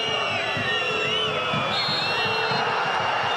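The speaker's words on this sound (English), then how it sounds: "Crowd getting on the back of the referee as Aleph picks up a booking" A football stadium crowd at a match between Apollon and Aberdeen reacts to the referee with a sustained roar of jeers and whistles, steady and loud throughout.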